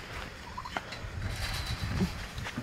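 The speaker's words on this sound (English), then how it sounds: "the turkey sliding down the roof" A turkey gobbles amid rustling and shuffling noises as it slides down a roof, fairly close, with a few short bird calls mixed in.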